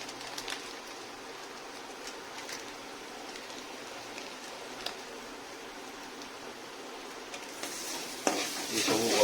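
Masala with kasuri methi fries in a pan for a mixed vegetable dish, a soft steady sizzle broken by occasional scraping stirs that grow louder and busier toward the end.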